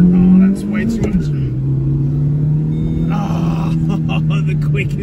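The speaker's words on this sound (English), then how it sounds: "Oh, it's just huge burnout." A racing video game car does a burnout, its engine holding a steady low rumble and drone over the full five seconds, with a voice talking excitedly over it throughout.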